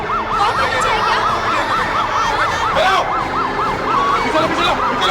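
An ambulance siren wails in a rapid, regular up-and-down warble, loud and close, running without a break over traffic noise.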